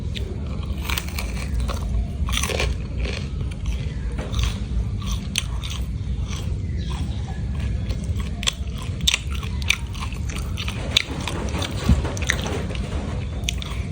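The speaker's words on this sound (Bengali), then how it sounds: "গরম গরম তেলে পিঠা খাচ্ছি" Hot, oil-fried village pitha rice cake is bitten and chewed up close, with repeated crisp crunches mixed with moist chewing and smacking in an irregular rhythm, no talking.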